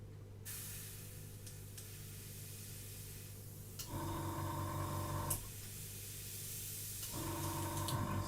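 A steady hiss of an airbrush spraying on a scale model runs throughout, swelling louder in two bursts, with a constant low hum underneath.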